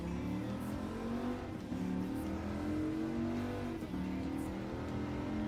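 Race car engine from Gran Turismo 7 at the Autopolis circuit, a steady loud drone with gently rising and falling pitch as the car brakes and accelerates, heard alone.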